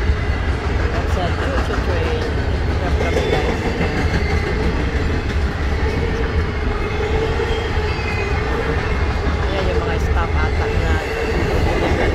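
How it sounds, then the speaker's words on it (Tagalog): A train rumbles past near a recycling center in Atlanta, Georgia, with a loud, steady roar of rolling wheels and a faint clatter running unbroken throughout. "Na-trap kami sa choo-choo train."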